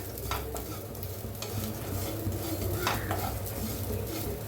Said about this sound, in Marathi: मस्त असं छान भाजून घेऊया